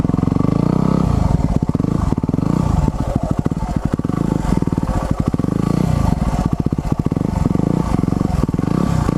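A motorbike rides through overgrown undergrowth and over logs, its engine loud and close with rapidly pulsing revs, throttle surges and clattering knocks as it bumps along, continuous throughout.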